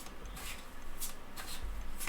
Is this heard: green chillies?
no